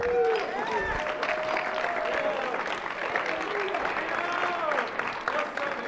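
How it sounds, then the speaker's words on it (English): A crowd at a basketball championship awards ceremony claps loudly and continuously, with scattered cheers and a voice speaking amid the applause. "Big round of applause for these guys."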